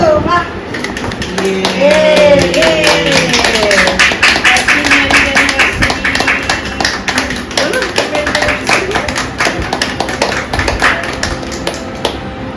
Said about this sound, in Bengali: হাততালি দেবে কিন্তু